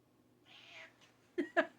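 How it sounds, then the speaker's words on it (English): A female cat gives a soft, drawn-out meow while being petted, followed by a few short, louder chirping meows close by. "I don't know if you can hear that meow."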